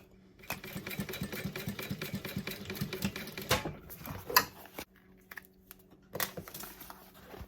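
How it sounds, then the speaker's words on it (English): A sewing machine top-stitches a zipper seam on a fabric bag, its needle chattering in a steady rapid run for about three seconds before breaking into a few short, uneven bursts and pauses. "So there goes my top stitching."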